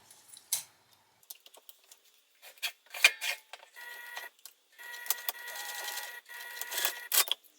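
Short mechanical whirring bursts of a sewing machine stitching, starting and stopping several times, with a soft click between runs.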